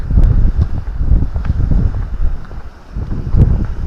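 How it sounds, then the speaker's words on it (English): Strong, bitter north wind buffeting the microphone by the waterside: loud, gusty low rumble that swells and dips irregularly, with no voices over it. "Oh, God, it's blowing here. Oh, it's bitter wind, that is."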